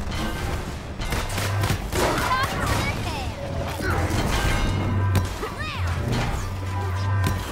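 Loud smashing, crashing impacts and metallic clanks as a turbine is wrecked during combat in the Marvel's Avengers video game, with dense bursts and game music running throughout and no pause.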